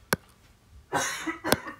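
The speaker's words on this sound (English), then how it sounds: "If you hear coughing in the background too" A few short coughs, one quick sharp cough followed a moment later by a rougher, longer cough, fairly quiet and somewhat distant.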